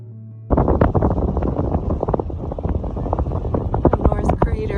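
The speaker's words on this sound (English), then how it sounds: "Can't tell you how strong the wind is up here. It's very gusty today." Strong, gusty wind at North Crater in Craters of the Moon buffets the microphone in loud, rumbling bursts that rise and fall for several seconds after a sudden onset.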